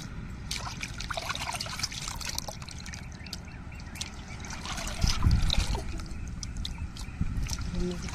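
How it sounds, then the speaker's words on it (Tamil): Water pours and splashes continuously close by as goat intestines are rinsed, with sloshing and rinsing sounds that swell midway, amid faint background noise. "தண்ணியை ஊற்றி நல்லா அலசணுங்க நல்லா குடலை அலசி எடுக்கணுங்க"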